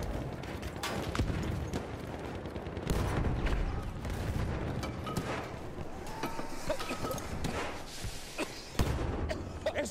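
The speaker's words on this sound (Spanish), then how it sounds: "¡Es una ametralladora enemiga!" Enemy machine gun fire in the Battlefield 1 video game, a steady, dense battlefield clatter of rapid shots with louder bursts, mixed with other combat noise throughout.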